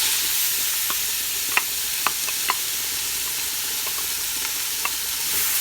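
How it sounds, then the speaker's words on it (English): Pureed tomatoes hiss and sizzle in a pan over frying thyme and rosemary, a steady broad crackle with a few light knocks of a spoon stirring, and no voices. "I'll add my pureed tomatoes"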